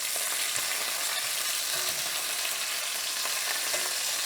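Chicken thighs frying in a pan, an even, loud, continuous sizzle close up with faint crackles throughout, no talking.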